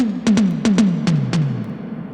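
Synthwave tom drum fill from a Neon drum kit preset, about seven booming hits descending in pitch, each tail smeared by a gigantic reverb that lingers after the last strike, with no other sound.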